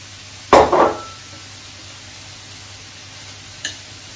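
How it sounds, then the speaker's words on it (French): Onions and bacon lardons in a frying pan: two short bursts of stirring and scraping early on, then a faint background hiss and a small clink near the end. "lorsque les oignons, les lardons sont revenus comme ça dans la poêle"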